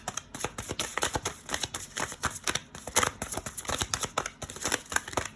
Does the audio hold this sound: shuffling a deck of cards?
yes